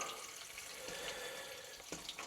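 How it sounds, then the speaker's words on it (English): Crawfish broth is strained and poured, a continuous soft splashing, trickling stream of liquid heard close up and quiet, with small bursts of splatter near the end and no speech. "Strain all that good broth out."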